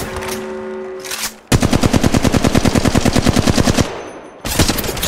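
Rapid automatic weapon fire from the video game Apex Legends, a long, loud, evenly spaced burst followed by a shorter burst after a brief pause.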